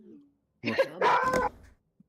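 A single person sneezes up close, a short sharp burst of breath and voice cut off abruptly, with faint low murmuring just before it.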